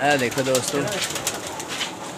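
Pigeons coo softly in a loft with short, rolling calls near the start, while someone speaks over them and faint rustling continues after.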